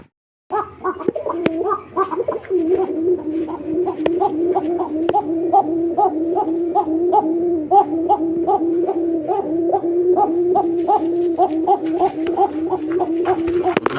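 A male pigeon coos steadily and loudly up close, a rolling, repeated throaty call pulsing about twice a second for over ten seconds, with little else around it.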